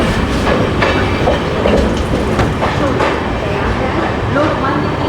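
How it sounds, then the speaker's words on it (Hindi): The Shan Bhopal Express, an Indian Railways train, runs at speed with a loud, continuous rumble and rhythmic wheel clatter that holds steady throughout. "शान भोपाल एक्सप्रेस अपनी तेज रफ्तार से एक ओर बढ़ रही है।"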